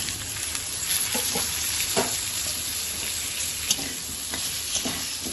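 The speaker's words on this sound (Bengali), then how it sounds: "এবার এই তেলটার মধ্যেই আমি আলুগুলো দিয়ে দেবো ভাজার জন্য" Potatoes sizzle steadily in hot oil left over from frying prawns, a dense, even crackle close by with occasional louder pops and no voices.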